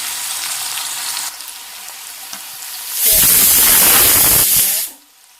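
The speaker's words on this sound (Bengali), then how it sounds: "আদা নহৰুখিনি কেঁচা গোন্ধটো যোৱালৈকে ভাজি লওঁ" Ginger, garlic and onion frying in a pan with a soft sizzle at first, then a loud close hiss that swells for a couple of seconds before cutting off, with no voices.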